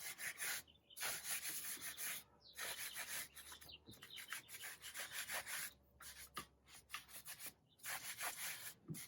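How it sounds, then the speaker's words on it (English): Brush scrubbing inside the barrel of a Porsche GT4 wheel during an exterior detail, a close, steady rubbing and bristle-scraping sound in repeated strokes with short pauses between passes. "if you're using one of these brushes, you're just going to get right into the drum of the wheel"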